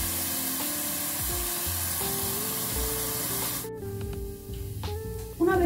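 Half an onion and another ingredient, salted, browning in a pan, giving a steady sizzle with spray-like crackle; the sizzle thins partway through as tonal kitchen sounds and brief clinks come in, then swells again at the end.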